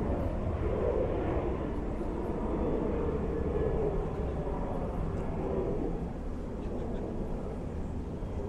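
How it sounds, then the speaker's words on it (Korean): A maglev train passes right alongside a deserted shopping mall near a government complex station, its steady broad rushing hum holding loud and close for several seconds before easing slightly. "옆으로는 자기부상 열차가 바로 지나갑니다"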